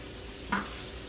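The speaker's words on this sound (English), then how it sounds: "while we got this sitting sauteing, like say about a minute or two" Garlic softening in a pan for chicken and wild rice soup, a soft steady sizzle with one brief stir or scrape partway through, faint and with no talking.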